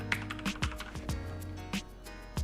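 Typing on a Corsair K70 RGB Rapidfire mechanical keyboard, a quick irregular run of crisp key clicks and clacks heard close up and fairly soft, with no talk.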